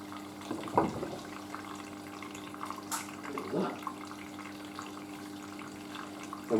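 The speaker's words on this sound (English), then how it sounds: "Hot water, of course, is going to be quite weak filling." Hot water trickles weakly into a Hoover A3060 Electronic 1100 washing machine with a leaky solenoid valve, a quiet steady fill with a few soft knocks and splashes.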